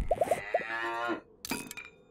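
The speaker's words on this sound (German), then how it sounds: "Die Kuh frisst unser Zelt." A cow in the video game 7 Days to Die gives a short series of moos, a few quick low calls and then a longer drawn-out one, followed by faint clinks.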